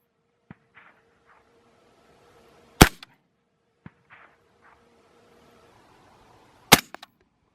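Rifle shots striking steel targets at an outdoor range, heard as two sharp, loud impacts spaced a few seconds apart, each followed by a faint distant ring, with a few quieter ticks in between.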